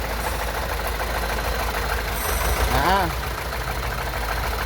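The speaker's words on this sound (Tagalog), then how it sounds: "Kurog ang yang makina." A JMC truck engine with an injector problem idles roughly, a dense low rumble running throughout with uneven knocking, and someone talks over it.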